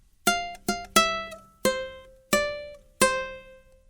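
Six plucked ukulele notes ring out one after another, the final phrase of Happy Birthday, each bright attack fading before the next.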